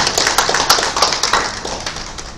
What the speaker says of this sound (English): A round of applause for your assistance